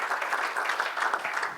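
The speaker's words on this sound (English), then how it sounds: "round of applause to Steve and Adrian" Brief, moderate round of applause from a conference audience, an even patter of many hands clapping at medium distance.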